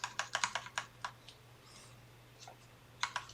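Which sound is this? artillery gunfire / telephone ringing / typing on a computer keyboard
typing on a computer keyboard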